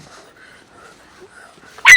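A dog whimpers faintly and softly, then lets out one sudden loud bark at the very end.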